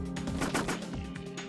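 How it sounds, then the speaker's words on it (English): Rapid gunfire from a magazine being emptied in the video game Parasite Eve, a quick string of about a dozen sharp, punchy shots in an uneven, fast rhythm, loud and close with no talking. "I think I can mag dump this one"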